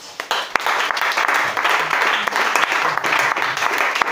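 Worshippers at a church service applauding and acclaiming Jesus, a sustained crackle of many hands clapping with sharp individual claps standing out, moderately loud with faint voices mixed in.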